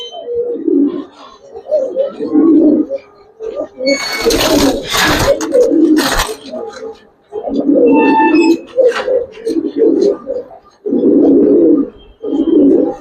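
Old-breed Giribaz coloured and silver pigeons cooing in repeated low, throaty bursts with short pauses between them, close and fairly loud, with a few brief sharper noises mixed in.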